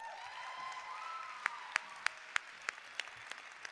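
At a band competition evening, a handful of slow, evenly spaced hand claps ring out one by one against a faint, hushed room, the sound quiet and sparse rather than full applause.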